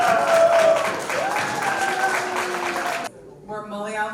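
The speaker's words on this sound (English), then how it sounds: "put your hand together for welcoming and congratulating Dr. Nandini Ambat Menon" An audience at the Kerala Center Award Night 2025 applauds an honoree, producing dense, steady clapping for about three seconds that stops abruptly before a voice begins speaking.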